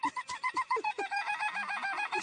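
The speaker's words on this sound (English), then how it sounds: "It sounds like a bird." Rapid, regular honking yelps from an excited spaniel whose bark sounds broken, almost birdlike, about nine evenly spaced calls before blurring into a continuous warble, up close and alone.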